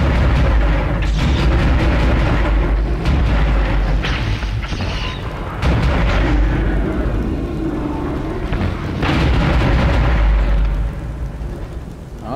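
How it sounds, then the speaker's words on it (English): Explosive barrels and tanks blow up in Dead Space, a run of loud, heavy booms with deep rumbling blasts that crowd close together and fade only at the end. "How does it keep finding all these explosive barrels? Or explosive tanks."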